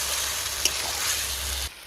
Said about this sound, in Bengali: এবার মাংসটাকে আমি আস্তে আস্তে জাল দিয়ে কষিয়ে নেব